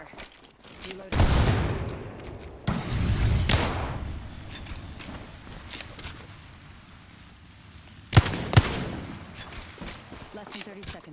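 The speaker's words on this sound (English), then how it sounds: "Opening fire." Bursts of gunfire in a shooter video game, heavy volleys early on and sharp shots later, mixed with game effects and occasional voice chatter.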